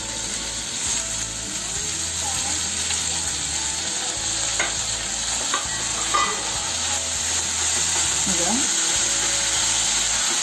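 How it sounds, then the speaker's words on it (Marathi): Onion frying in oil fills the pan with a steady sizzle, and a utensil stirs it with scattered scrapes and clicks. A low background hum runs underneath. "आता ह्या तेलामध्ये मी पहिल्यांदा कांदा घालणार आहे आणि तो कांदा काय झालं चांगला नरम करून घ्यायचा आहे"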